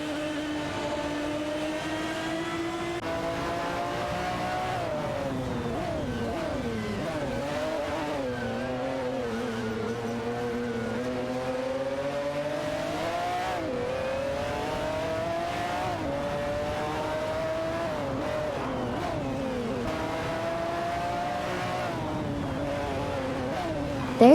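Bugatti EB110 LM and Jaguar XJ220 racing in a video game, with sustained engine whine rising and falling through gear shifts, continuous and fairly loud throughout, with occasional tire noise.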